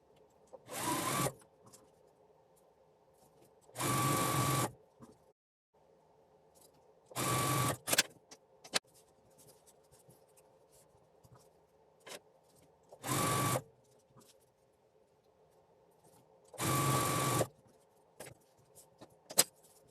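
A sewing machine stitches rows of a quilt block together in five short, loud running bursts separated by quiet gaps, with a faint steady hum underneath.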